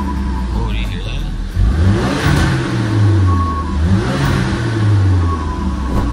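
Ford Focus RS with a Turbosmart wastegate actuator and E-Tune revving hard, the engine pitch climbing and falling through several loud blips close to the car.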